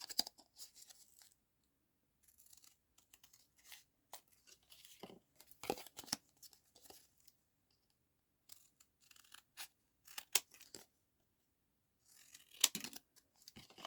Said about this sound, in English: I'm just going to cut all this down to size before we do anything else